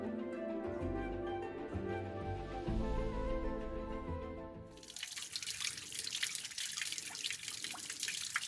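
Hot water gushes from a tap in a steady broadband rush that starts about halfway through, following a musical passage, and stays loud and close to the end.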